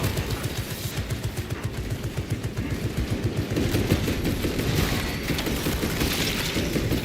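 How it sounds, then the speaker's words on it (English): A Tarantula sentry gun in Warhammer 40,000: Space Marine 2 fires continuously in rapid, steady automatic bursts, loud and close, with a dense rattling rhythm that runs throughout. "Now let's get this Tarantula sentry gun going."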